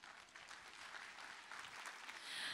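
Audience applause at a Success Academy event, a steady wash of clapping from a crowd that holds evenly for a couple of seconds and swells slightly toward the end, with no talking over it.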